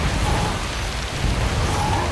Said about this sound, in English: Quite a massive rain out here.